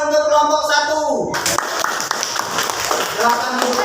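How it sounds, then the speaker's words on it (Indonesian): A fourth-grade class applauds group 1 in the classroom, a burst of many children's hands clapping close by that starts abruptly after a teacher speaks and continues steadily. "beri tepuk tangan untuk kelompok 1"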